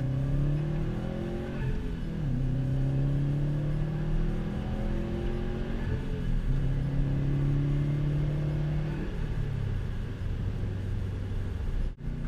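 A 2015 Subaru WRX STI with its turbocharged engine accelerates through the gears, rising engine notes climbing, dropping at each shift and climbing again, heard steadily from inside the car with no talk.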